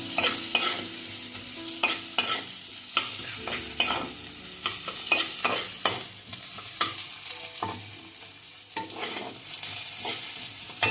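Garlic and ginger stir-fried in a pan make a continuous sizzle broken by repeated scraping and clattering strokes of a spatula, close and fairly loud, with no voices.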